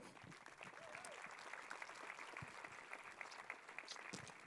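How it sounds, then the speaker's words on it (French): Audience applause at the opening ceremony of the Saint-Jean-de-Luz International Film Festival, steady and fairly distant, a continuous patter of clapping that runs through the whole stretch with faint voices mixed in. "Et je vous invite à l'applaudir pour l'inviter."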